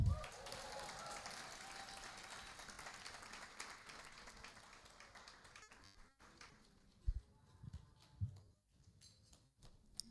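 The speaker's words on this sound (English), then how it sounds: "More rounds of applause as he gets his award." Applause for an award nominee at an annual gala, a broad steady wash of clapping for several seconds that thins out into scattered claps and a few louder taps near the end.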